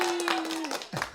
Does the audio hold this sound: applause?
yes